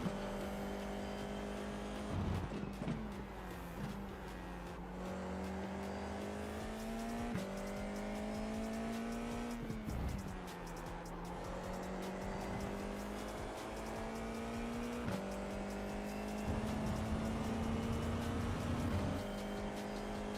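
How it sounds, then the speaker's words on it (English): A Formula 4 open-wheel race car in the iRacing sim racing game whines steadily at high revs, its engine pitch rising and dropping through gear changes and corners, continuous and close. "We're just driving in the F4. One of the slowest open wheelers on the service."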